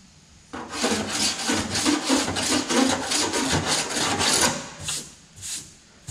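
Metal body file rasps over a repaired car door panel in quick back-and-forth strokes, a dozen or so rhythmic scraping passes close up with no talk.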